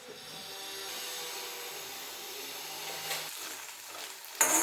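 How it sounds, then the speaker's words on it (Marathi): Garlic frying in oil in a kadhai over a low flame, a soft steady sizzle with a few louder scraping stirs near the end, close and alone. "मंद गॅसवर चांगला परतवून घ्यायचा लसूण"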